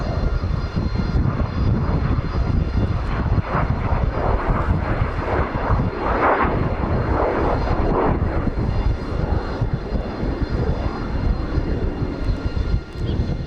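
Messerschmitt Me262 jet aircraft in flight at an airshow, its engines producing a loud, continuous roar that swells and holds steady throughout, with no voices present.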